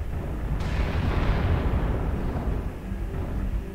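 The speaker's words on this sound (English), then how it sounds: "Warning, incoming missile." An incoming missile strikes in a video game, a deep rumbling blast that swells and slowly fades, loud and close with no talk.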